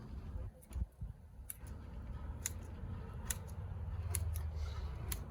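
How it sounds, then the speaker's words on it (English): Scissors snip around the perimeter of a boxwood bonsai during repotting, with sharp, irregular close-up clicks spaced through a quiet room. "now we're gonna go ahead and do a perimeter trim"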